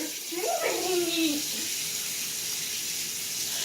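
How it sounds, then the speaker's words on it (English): Hot, steaming water runs from a kitchen tap in a steady, hissing stream; a brief voice sounds over it near the start. "Then you're gonna get hot, steaming water."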